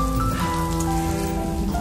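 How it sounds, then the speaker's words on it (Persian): Steady rain pattering on a surface during a family gathering at a grandmother's house, a continuous close wash of drops lasting the whole moment, with faint tonal music underneath and no talking. "اینکه داره بارون میاد."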